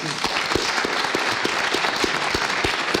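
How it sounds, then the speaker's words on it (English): Audience applause closes an Idaho Supreme Court candidate debate: steady, dense clapping from a room full of people, fairly close and continuous for the whole stretch, with no speech over it. "Thank you to our candidates. Let's give them a round of applause."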